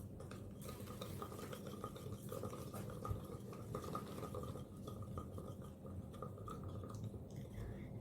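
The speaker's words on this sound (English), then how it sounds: "Now we will take this spoon and mix it well." A spoon stirs a mixture inside a big beaker, giving a steady, continuous scraping and swishing with faint clinks throughout, fairly quiet and close, with no talking.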